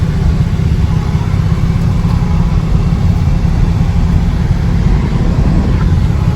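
A Lexus IS300 being rebuilt, with weak power steering and poor brakes, drives along with a steady low engine rumble and road noise, loud and close throughout with no talk.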